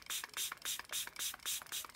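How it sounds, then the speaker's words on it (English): A spray bottle's trigger is pumped about eight times in a quick, steady rhythm, each squeeze giving a short hissing spritz, close and fairly quiet. "and spray it in there to make it the consistency that you are looking for"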